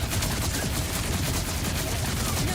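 Rapid SMG gunfire in the Borderlands 4 video game, a dense, continuous stream of shots at steady loudness throughout, with game sound layered underneath.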